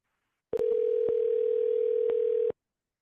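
A telephone dial tone while placing a call, one steady clean tone lasting about two seconds, loud and alone, then silence.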